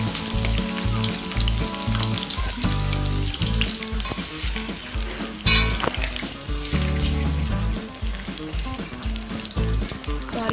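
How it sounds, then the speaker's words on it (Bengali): Potatoes frying in mustard oil in a wok, a loud, dense sizzle and spatter continuing throughout, with stirring knocks and one sharp burst midway, no speech. "কড়াইতে সর্ষের তেল নিয়ে নিয়েছি, এখন আলুগুলোকে একটু ভেজে নেব।"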